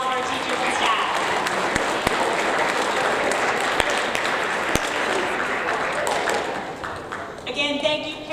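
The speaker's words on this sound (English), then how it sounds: "So let's give a round of applause to all of our teachers and staff." Parents and guests at an eighth-grade awards ceremony applaud the teachers and staff with sustained, fairly loud clapping, and voices mingle in the crowd noise as it fades toward the end.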